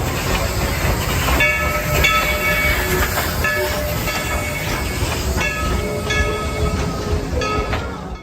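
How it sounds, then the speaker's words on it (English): The Dollywood Express steam train rumbles and clatters steadily along the rails with a continuous hiss, close by, and no voices. "the park's iconic steam train."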